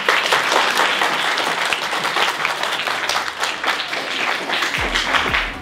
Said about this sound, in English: Let's clap for Victor.